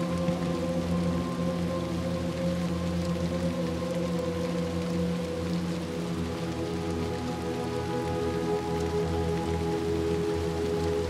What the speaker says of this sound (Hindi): बाहर के एरिया में आ चुके हैं जहाँ पर बारिश हो रही है।